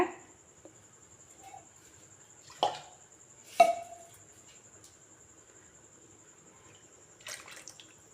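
Fish curry broth for a village-style seela fish kulambu is poured into a pot in a few brief, close splashes, with quiet pauses between them and no talking.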